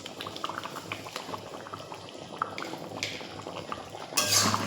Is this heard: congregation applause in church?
no